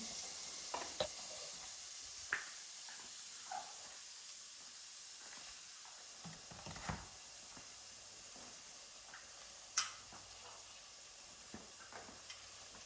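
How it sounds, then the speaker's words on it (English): Onions sauté in a hot pan for chicken pot, a faint, steady hiss with scattered light clinks and stirring taps, close by and without speech. "onions are going to saute"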